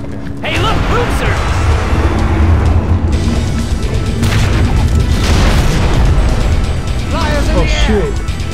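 In Orcs Must Die 2, a Boomer orc explodes in a loud boom amid busy battle noise and clanking game effects, while people talk excitedly over the action.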